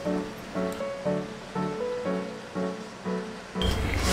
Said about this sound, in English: rinse it with water for 2-3 times like this